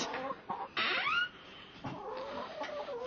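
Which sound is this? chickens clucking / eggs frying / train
chickens clucking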